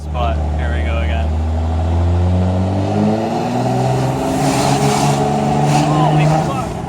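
A tuned single-cab Cummins diesel pickup accelerates with a loud rising engine drone that climbs through the gears. It is heard close up, with a voice talking over it.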